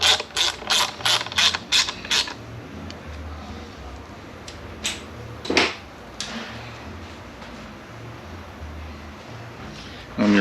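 A ratchet torques the transmission filter bolts during a 45RFE rebuild, giving quick bursts of sharp clicking at first, then sparser single clicks and a faint clatter in a quiet shop.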